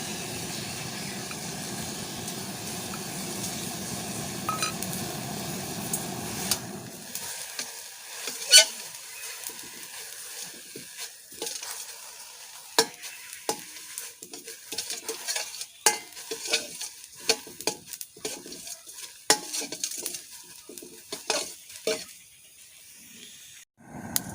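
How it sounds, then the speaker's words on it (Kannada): Ingredients for sesame seed chutney dry-frying in a pan, an initial steady hiss fading after a few seconds into repeated scraping and stirring taps, close and fairly quiet. "ಇವಾಗ ನಾನು ಎಲ್ಲಾನು ಫ್ರೈ ಮಾಡ್ತಿದ್ದೇನೆ ನಾವು ಚೆನ್ನಾಗಿ ಒಂದೆರಡು ನಿಮಿಷ ಬರಿಬೇಕು"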